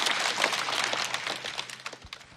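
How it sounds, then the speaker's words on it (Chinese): A stand-up comedy audience applauds steadily for a couple of seconds, a dense, moderately loud patter of many hands that thins slightly toward the end. "请鼓掌祝贺吧。"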